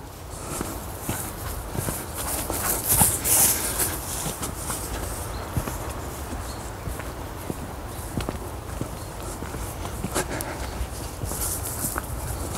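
Dog moving around in an old tunnel, with irregular scuffing footsteps and scattered clicks echoing in a reverberant space, under a constant low background rumble.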